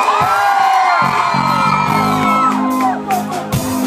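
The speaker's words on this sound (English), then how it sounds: "I want everybody to scream right now." A live show crowd screams and whoops loudly and continuously for the full stretch, a dense roar of many voices near and sustained, swelling slightly toward the end.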